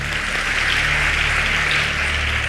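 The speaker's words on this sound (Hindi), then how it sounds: "वाह भाई ताली बजा" An audience at a devotional talk claps for a few seconds. The dense, even applause stays steady throughout with no talking.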